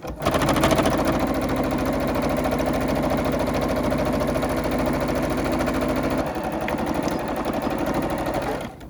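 Sewing machine stitching a fabric face mask, a loud, steady rapid mechanical chatter running continuously, briefly easing in pitch for a moment before resuming at full speed.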